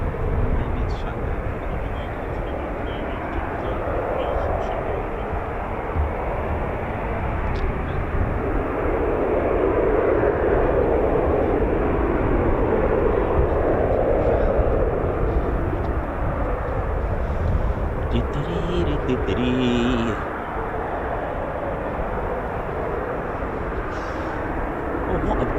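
F-35B stealth fighter jet at RAF Marham with 809 Naval Air Squadron, 617 and 207 Squadron, heard as a steady, loud engine roar that swells slightly mid-way before easing, with a person talking over it.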